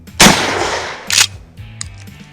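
A Mossberg 500 or KelTec KSG shotgun fires 3-inch double-aught buckshot: one loud, close blast with a long decaying echo, then a second quieter report and light mechanical clacks of the action.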